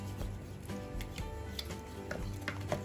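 Chocolate melted in a bain-marie being stirred together with cream heated in a microwave to make ganache for an orange-chocolate cake, soft scraping and ticking strokes repeating steadily, close and quiet, with no talking.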